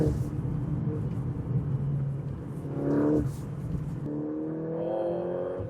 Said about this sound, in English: There's a good downshift.